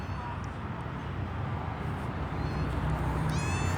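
A cat meows a few times amid steady background noise, with faint talk nearby.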